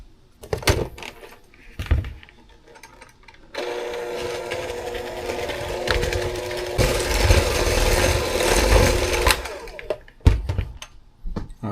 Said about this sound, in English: we're going to get to mixing.